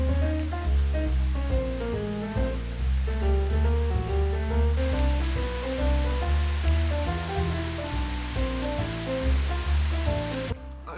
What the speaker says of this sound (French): J'aime trop lire quand il pleut.